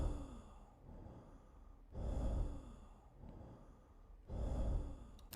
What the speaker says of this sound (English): Pretty bad breathing there.